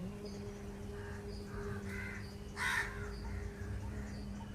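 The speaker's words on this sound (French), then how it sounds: "Accompagné par les corbeaux." Crows caw several times on an Indian morning, harsh calls at moderate distance with one louder burst midway, over a faint hum and insect chirping.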